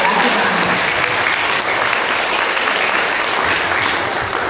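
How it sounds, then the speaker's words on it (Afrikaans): A hall full of people claps steadily through a school prize-giving for young grades, the applause loud, dense and unbroken from start to finish. "Ons klap vir al ons individueers wat die markdag deelgeneem."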